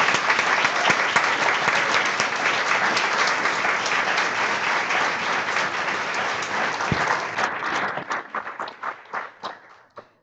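Dense applause from a book-launch audience welcoming two authors at a bookstore, loud and sustained for about seven seconds before thinning into scattered claps and fading out.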